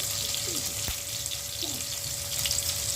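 Turmeric powder going into hot oil with fried green chilli and nigella seeds for a low-spice fish and brinjal curry, giving a steady soft sizzle throughout, close and even, with a couple of light utensil touches.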